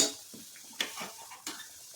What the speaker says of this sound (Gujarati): આવી રીતે બધા મુઠિયાને તળી લેવાના છે